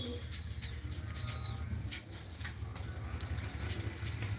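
Pigeons coo and call around a rooftop during a home pigeon-flying contest. The calls are soft and scattered over a steady low background hum.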